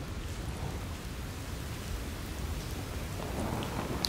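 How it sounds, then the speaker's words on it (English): Rain falls steadily outdoors, a dense even hiss and patter that stays constant and fairly close, with no voices over it. "I really wanted to go out and play, but it's raining outside."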